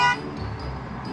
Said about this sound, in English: People are honking, dude.